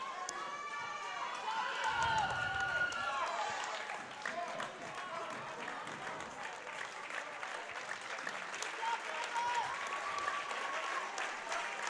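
A high school basketball crowd at a boys' playoff game applauds a player who has fouled out, clapping and cheering in a gym with squeaking shoes and a commentator talking over it.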